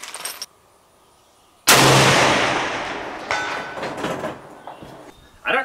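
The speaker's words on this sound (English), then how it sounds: "So I'm gonna shoot one more." A Swiss K31 bolt-action rifle fires a single loud, sharp shot at a long-range shooting range, after a brief silence, and the blast echoes and rolls away across open ground for several seconds.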